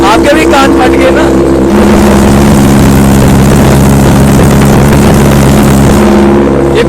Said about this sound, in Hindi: ये कोल्ड स्टार्ट में बहुत आवाज करती है यार।